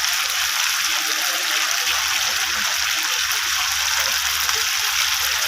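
Tomatoes and ground spices sauté in a hot pan while preparing a rohu fish and eggplant curry, giving a steady, close hiss and sizzle with no talking.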